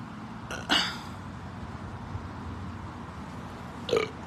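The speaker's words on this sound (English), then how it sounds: "I'm already burping." A person burps during a casual food challenge: one short throaty burst near the start, followed by a second brief one toward the end, over quiet room background.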